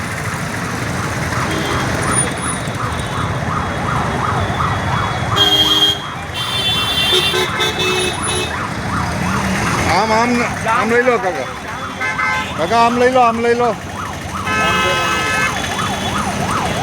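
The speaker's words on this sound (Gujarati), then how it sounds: "એમ્બ્યુલન્સ પકડાયેલી છે બરાબર" An ambulance stuck in village traffic wails its siren nonstop, loud and close, the rising and falling tone running under car horns and a man calling out.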